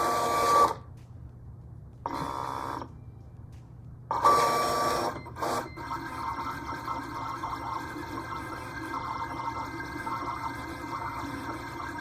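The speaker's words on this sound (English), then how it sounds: "And we are ready to send this to the cutter." Siser Romeo cutter working on print-and-cut stickers, with short bursts of whirring carriage movement broken by pauses, then a steady mechanical hum and ticking as it cuts, close and moderately loud.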